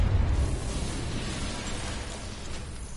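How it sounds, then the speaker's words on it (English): A bomb detonating in the Batman: Arkham Knight video game, a loud, deep explosion at the start that gives way to a long rumbling, crackling tail. "I shouldn't detonate until I'm further away."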